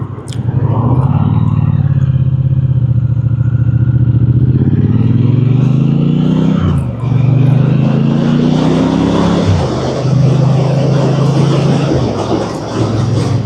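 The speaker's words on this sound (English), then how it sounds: "Let's wait for this traffic to go." Road traffic passing a rider waiting to make a U-turn on a Triumph motorcycle, loud engines rumbling and rising as vehicles go by close, with a low idling drone throughout.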